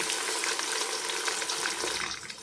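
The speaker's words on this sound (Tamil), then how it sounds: "இஞ்சி பூண்டு போட்டு நல்லா கிளறி விட்டுடலாம்" Onions frying with ginger-garlic paste for mutton dum biryani, a steady broadband sizzle with faint stirring, continuous and close throughout.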